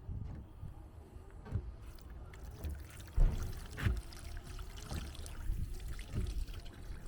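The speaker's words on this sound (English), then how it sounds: "So we're just gonna fill it with water." Water is poured over a 2021 Ford Transit during a leak test, giving irregular splashes and trickles with a few louder sloshes, fairly quiet and close.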